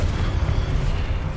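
A Confringo blast spell cast in the video game Hogwarts Legacy, producing a loud, close, sustained low booming rumble that roars steadily without a break and carries no voices over it.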